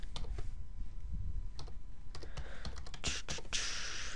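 Rapid typing on a computer keyboard, a steady patter of close, crisp key clicks with brief pauses, growing busier and brighter toward the end.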